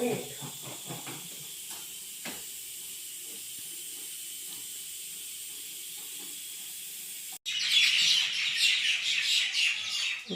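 A dense burst of high bird chirping swells in partway through at dusk, around half past six, following a quieter stretch of faint hiss with a few scattered calls.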